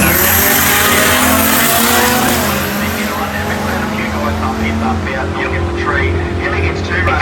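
Datsun with a turbocharged CA18 four-cylinder drag racing, its engine roaring loud and sustained with strained revving and tyre noise close by, as a commentator talks over it.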